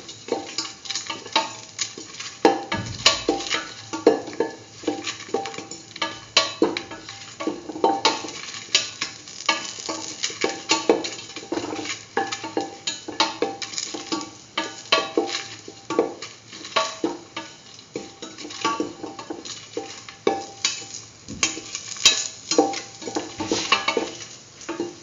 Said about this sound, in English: Salt and mix.